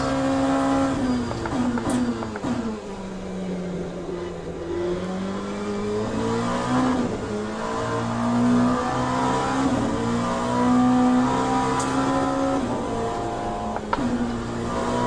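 RSR race cars lap Zolder in Assetto Corsa Competizione, engines revving up and down through the gears with shifts and braking dips, loud and close throughout.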